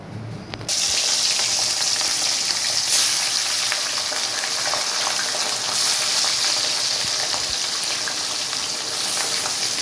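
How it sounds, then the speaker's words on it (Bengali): Steady, loud crackling sizzle of rohu fish frying in hot oil, continuous throughout with a brief quieter start. "মাছটাকে আমি লাল লাল করে ভেজে নেব।"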